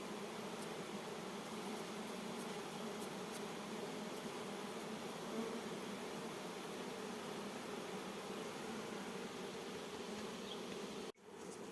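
A steady, dense hum of many honeybees buzzing close by, continuous and even throughout, with no voices.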